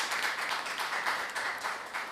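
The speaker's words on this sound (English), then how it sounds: "Let's give them a round of applause" An audience at a formal debate claps, a brief, steady wash of applause from a crowd at moderate distance, heard alone without speech.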